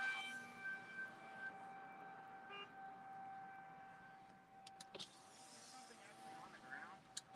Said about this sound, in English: You can definitely hear the tornado sirens going off.